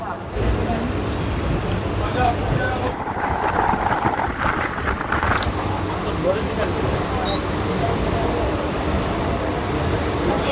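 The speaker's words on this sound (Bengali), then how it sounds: "তো চলুন এই লোকাল ট্রেন জার্নি দেখে বেশি বড় ভিডিও করব না" A local passenger train on the Sealdah to Canning line rumbles and rattles steadily from inside the carriage, with wind buffeting the microphone and people talking over the noise.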